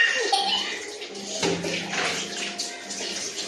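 Water splashing and pouring steadily while a small child is bathed, close and fairly full, with faint voices in the background.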